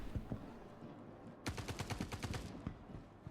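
Star Citizen video game gunfire: a rapid automatic burst of about a dozen quick shots fades in after quiet background noise, fairly faint and distant-sounding.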